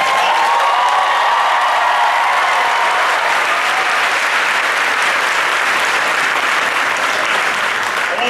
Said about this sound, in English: everybody to give George a big round of applause for that introduction.